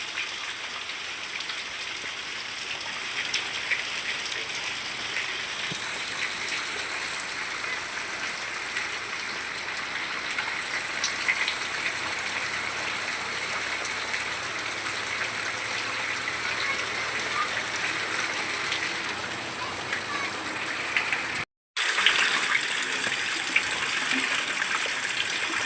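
Steady rain falls in a village, a constant broadband hiss of drops on surfaces lasting throughout, with a very brief dropout near the end and no talking.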